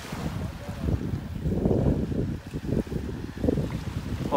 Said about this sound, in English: Really breezy there.